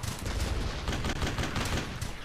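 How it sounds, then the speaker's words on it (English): Machine gun fire from the World War II video game Brothers In Arms: Hell's Highway, a dense continuous rattle of rapid shots, loud and close for the whole stretch. "there's a fucking machine gun up there"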